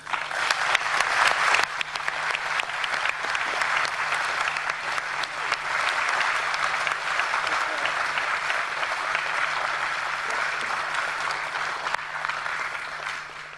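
A large plenary audience at a World Heritage Committee session applauds the rapporteur, a sustained, dense wall of clapping that stays steady for over thirteen seconds with a faint low hum underneath.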